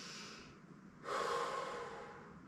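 Heavy, forceful breathing after a hard dumbbell arm and core workout, with softer breaths first and then a loud, sharp exhale or gasp at about one second that trails off, heard alone without talk.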